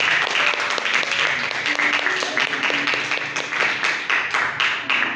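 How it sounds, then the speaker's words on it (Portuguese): Church congregation clapping in praise of Jesus during a Portuguese-language service, rhythmic and fairly loud, mixed with voices and sustained musical tones in the background. "Aplauda o nome do Senhor Jesus."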